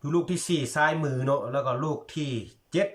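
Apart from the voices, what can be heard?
None of the usual background noises is heard.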